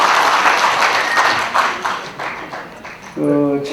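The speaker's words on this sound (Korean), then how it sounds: "박수 한번 줘야 될 텐데" Audience applause at a book launch for a National Assembly member's book at the National Assembly Library, a dense burst of clapping under ongoing talk that fades out midway, with a voice over the end.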